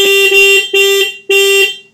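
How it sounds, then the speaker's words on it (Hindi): Horn of a 2024 Bajaj Pulsar N160 motorcycle sounds in three loud, close, steady-toned honks, each about half a second long with short gaps between them. No other sound is heard. "हॉर्न आपको हम सुना देते हैं इसका"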